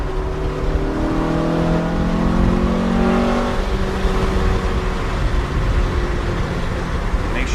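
A loud Honda Civic Si (EM1) engine with an aftermarket exhaust drones and revs up, pitch rising and holding, heard close from inside or beside the car. There is no speech.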